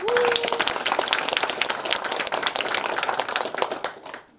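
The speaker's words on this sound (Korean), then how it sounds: "한 분 한 분 소개해드릴 때마다 힘찬 박수 부탁드립니다." Dense, loud applause from a ceremony crowd at a volunteer fire brigade anniversary event in Hamyang, filling the whole stretch as former association chairs are introduced, then fading out at the end. No one speaks over it.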